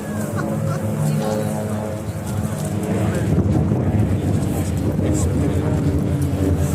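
Low droning roar of six Van's RV-8 propeller planes in formation passing overhead at an airshow, swelling slightly, mixed with steady wind noise buffeting the microphone.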